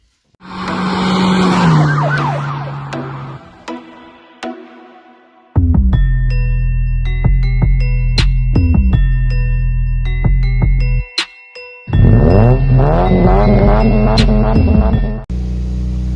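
A Toyota Yaris engine cranks hard, catches and revs, its loud whining, roaring note rising and falling in bursts with brief gaps between, close by and with no talk.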